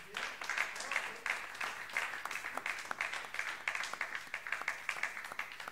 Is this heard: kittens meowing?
no